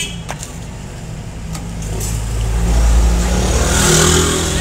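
A homemade motor starts and revs up, a steady mechanical engine drone building in loudness and holding strong near the end, with faint clinks early on.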